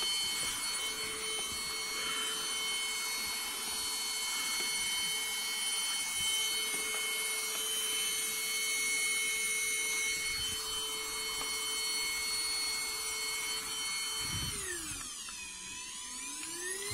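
Beldray cordless vacuum cleaner from Aldi sucking up fireplace debris and wood pieces, a steady whining motor hum held throughout, then a falling pitch sweep near the end as the motor changes speed.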